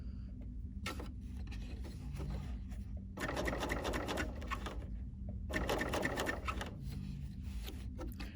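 A BERNINA L890 sewing machine stitches fabric in three separate runs of rapid, close mechanical chatter, each several seconds long. A steady low hum continues through the pauses between runs, and no one speaks.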